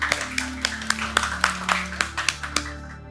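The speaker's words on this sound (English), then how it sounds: "Please, guys, be more generous with the applause" Sparse clapping from a small audience at a startup demo day, a few distinct claps spaced roughly evenly over a steady background hum.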